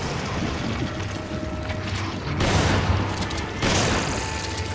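Gunfire and explosions in Resident Evil 5 build into a steady crackling fusillade, with two heavier booming surges landing over the ongoing din at mid-range.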